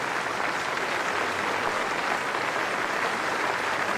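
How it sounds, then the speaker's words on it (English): Sustained applause from a cricket crowd at the Basin Reserve, Wellington, during a New Zealand versus India Test, a thick even wash of clapping with no voices standing out. "this man here deserves all the applause he's getting"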